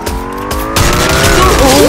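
Loud squealing tires and a skidding car in a video game, a continuous screech with rising and bending whine tones over engine noise, close and intense throughout.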